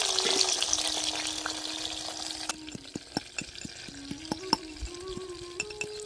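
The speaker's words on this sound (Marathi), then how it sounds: "कांदा टाकून घ्यायचा आहे आणि लगेचच मिरची सुद्धा टाकून घ्यायची आणि कढीपत्ता सुद्धा टाकून घ्यायचा आहे" Onion, green chili and curry leaves sizzle and crackle in a hot pan, a steady frying hiss with scattered pops and a few stirring clicks, close and continuous with no talking.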